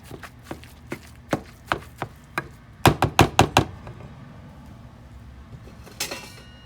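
A kitchen tool knocks against a pan while breaking up ground meat for Louisiana dirty rice, a string of sharp, close taps followed by a quick rapid cluster of louder strikes, then a pause and one last knock.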